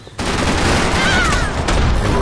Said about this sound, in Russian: это пускает салюты, чтобы мы примерно пошли вон туда и нашли друг друга